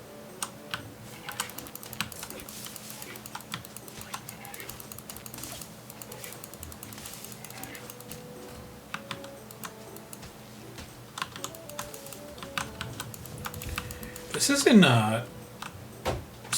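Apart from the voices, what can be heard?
keyboard and mouse clicking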